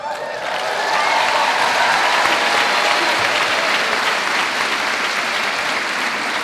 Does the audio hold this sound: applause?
yes